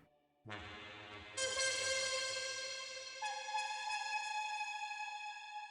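Bright synthesizer tones from a Bloom Mura Masa plugin preset enter in stages, building into a dense, ringing chord that sustains and gently wavers for several seconds, with no voices.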